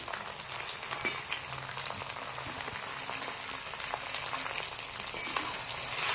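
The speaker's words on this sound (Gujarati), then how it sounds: "મીઠું નાખ્યા પછી આપણે પાંચ મિનિટ સુધી ભીંડાને શેકી લેશું તેલના અંદર" Okra (bhindi) frying in oil in a pan with salt, turmeric and pink salt, giving a steady, fairly quiet crackling sizzle with occasional sharper pops, no voices.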